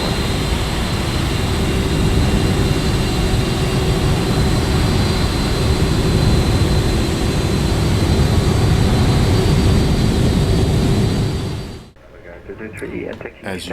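Loud, steady roar of airliner jet engines after start-up in Microsoft Flight Simulator, with a high whine on top, running continuously before cutting off abruptly near the end.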